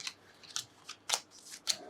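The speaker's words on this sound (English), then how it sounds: "Quick shuffle." Quick riffle shuffling of a deck of game cards during a solo tabletop session of City of the Great Machine: four or five short crisp bursts of flicking cards, close and alone with no talk.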